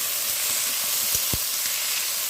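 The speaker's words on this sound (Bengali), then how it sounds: "কাঁচা মরিচ তেলে আলু দিয়ে দিলাম।" Potatoes and green chilies fry in hot oil, a steady bright sizzle with a couple of sharp crackles, close and alone with no voices.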